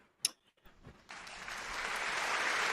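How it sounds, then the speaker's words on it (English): Audience applause rising from a few scattered claps into sustained, loud clapping that keeps building to the end. "let's give you a round of applause for midlife crisis"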